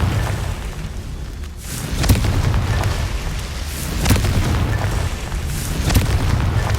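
Confringo fire spell blasts in the Hogwarts Legacy video game, several loud booming explosions spaced about two seconds apart over a constant rumbling roar.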